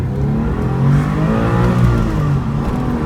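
A 2004 Porsche 911 996 accelerates hard, its engine note climbing loud and close through the gear with a rising, steady roar and no talking.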